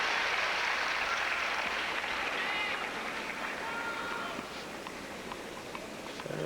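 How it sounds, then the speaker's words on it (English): A tennis crowd at the US Open men's final reacts with broad, steady applause and murmuring that fades gradually over several seconds, loud at first and then settling lower. "Crowd reacting to one of the ball kids that had trouble collecting"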